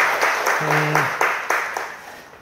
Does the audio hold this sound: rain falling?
no